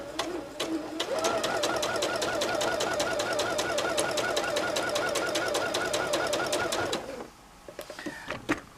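A dual-feed sewing machine stitches a straight quilting line through layered top and bottom fabrics, running fast and even for about six seconds at close range before stopping.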